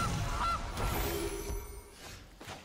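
A cartoonish goose honks as the Gilded Goose card is played in MTG Arena, a couple of bright squawking calls over the game's busy music and effects, fairly loud and without talk.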